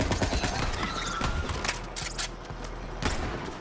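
The Star Helix legendary assault rifle fires in Borderlands 3, a loud rapid stream of shots with punchy thuds and crackling impacts, bursting in quick irregular volleys.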